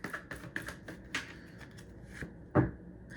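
Tarot cards being shuffled and pulled by hand, quiet close riffling with soft slaps and a sharper card snap near the end, no voices.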